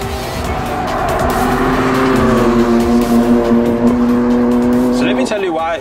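A BMW M2 Competition driven hard on a race track, its engine note climbing and holding steady through sustained tire squeal, then cutting off abruptly near the end, with talk over it.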